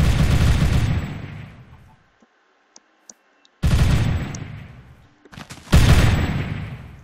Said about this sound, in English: And then you're gonna watch me shoot people.